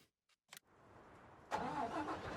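A truck engine in Farming Simulator 19 cranks briefly after a few faint clicks, then catches and settles into a steady mid-pitched idle, heard alone and fairly close.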